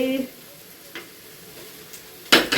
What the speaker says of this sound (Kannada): ಸಿಮ್ಮಲ್ಲಿ ಇಕ್ತೀನಿ ಅದು ನಿಧಾನಕ್ಕೆ ಫ್ರೈ ಆಗಲಿ